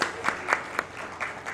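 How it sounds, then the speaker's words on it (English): Audience clapping at a corporate launch event, a short burst of scattered, fairly sparse hand claps with distinct individual pops rather than a full roar. "You all deserve a round of applause."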